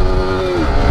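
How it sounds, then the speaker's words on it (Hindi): Yamaha R15 V4 motorcycle being ridden, its engine giving a steady, loud droning note with a slight pitch dip partway through, with no talk over it. "मैं पहली बार ना V4 चला रहा हूँ"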